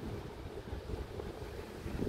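Strong wind buffets the microphone on an open beach at Dancalan Beach in Bulusan, a steady loud roar with low rumbling gusts and a faint wash of surf beneath, no voices.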